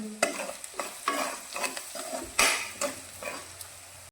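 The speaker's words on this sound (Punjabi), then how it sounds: "ਇਹਨਾਂ ਨੂੰ ਆਪਾਂ ਭੁੰਨ ਲੈਣੇ ਆ" Spices and turmeric roast in a pan for a daliya vegetable pulao, with a soft sizzle under rhythmic spatula strokes scraping and knocking against the metal, close and fairly quiet.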